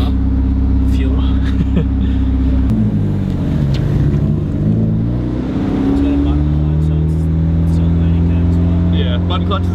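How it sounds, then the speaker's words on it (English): A Nissan 180SX with a button clutch idles and runs at low revs inside the cabin, giving a loud, steady engine drone with a brief shift in tone midway, heard up close from the passenger seat. "It's loud in here already at just like low revs."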